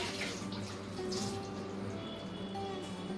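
A clay water pot being washed out with water, a steady splashing, running-water wash heard close up without talk.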